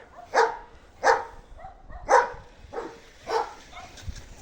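Dogs bark repeatedly outdoors, five or six sharp barks spaced about a second apart, moderately loud with quieter yips between.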